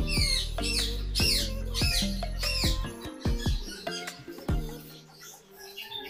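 Repeated harsh squawks and chirps from a young bird, close and loud, coming in a quick series of rasping calls with brief pauses.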